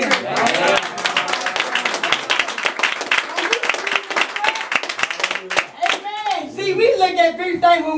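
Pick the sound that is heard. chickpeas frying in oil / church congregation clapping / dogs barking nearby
church congregation clapping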